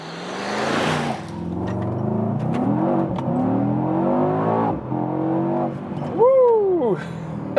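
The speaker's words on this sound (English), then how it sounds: "this was a very nice acceleration and also a good old V8 sound" A 2022 Mercedes-AMG E63 S sedan's V8 revs up hard through rising engine tones, loud and close from inside the car, and a person whoops near the end.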